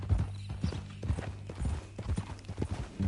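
Horse hooves clip-clop steadily on the ground in a PS4 video game, a repeated rhythmic walking beat of close, moderately loud thuds against a low, constant background hum.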